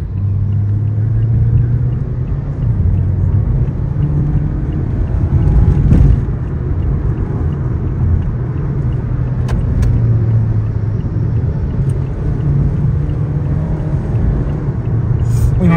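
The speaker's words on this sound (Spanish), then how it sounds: "¿Quieres escuchar cómo suena el carro?" A car engine in sport mode rumbles at a steady, loud idle with little rise in pitch, close and continuous throughout, with faint voices in the background.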